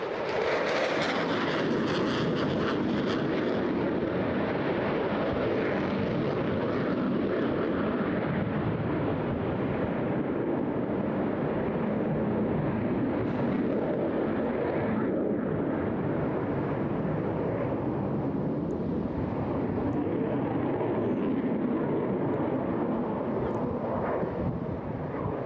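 Eurofighter Typhoon jet with two Eurojet EJ200 reheated turbofans passing at a seaside airshow, a loud continuous broadband roar that peaks early and slowly fades with wind buffeting.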